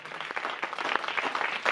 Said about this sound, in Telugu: బిగ్గరగా చప్పట్లు కొడుతున్నామై